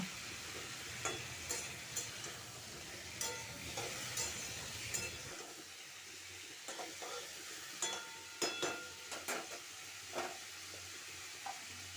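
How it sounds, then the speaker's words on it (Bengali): Broccoli and potatoes frying in a pan for a vegetarian broccoli dish, a steady sizzle with intermittent stirring scrapes and clinks, busier in the first half and thinner after, no talk. "এরপর ব্রোকলিটা দিয়ে দিলাম দিয়ে আবারও আমি এক মিনিট ব্রোকলি আলু ভেজে নেব"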